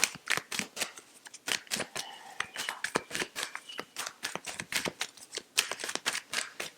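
Tarot cards shuffled by hand in rapid, crisp riffling flicks and soft slaps, with occasional cards falling and flipping, close and fairly quiet with no talking.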